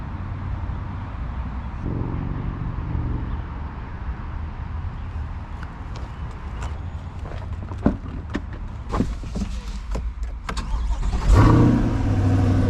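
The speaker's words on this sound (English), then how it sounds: "the last and probably coolest feature that we added to this particular car is the performance exhaust" A 2024 Corvette C8 with performance exhaust cranks over and fires up close by, a sharp startup burst at the end after a low idle-like rumble and scattered mechanical clicks.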